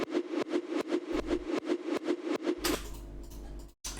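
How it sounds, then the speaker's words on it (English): Gated kick drum with extra reverb added, a steady run of punchy hits with a roomy wash behind them, then the beat gives way to a fading reverberant tail near the end. "I felt it needed a little bit more reverb to really give some space back to this kick"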